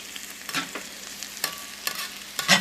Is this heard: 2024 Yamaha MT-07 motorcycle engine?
no